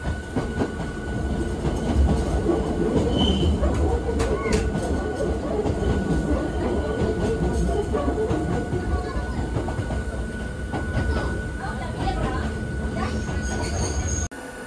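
A Hakone Tozan Railway train runs along with a steady rumble of wheels and rhythmic clatter, heard from on board, with a faint squeal and some background chatter.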